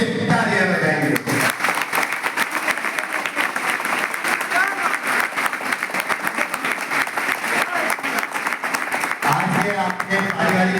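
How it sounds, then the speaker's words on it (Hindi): An audience claps loudly and steadily after a speech at a gathering, sustained applause between stretches of someone speaking at the start and end. "मेरा भाषण यदि आपको पसंद आया तो जोर से तालियां बजाएंगे"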